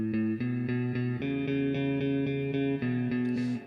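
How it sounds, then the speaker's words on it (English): Clean electric guitar notes, picked one at a time with no delay effect, ring out in a steady melodic line, close and fairly loud with no voices. "without the delay, it sounds like this."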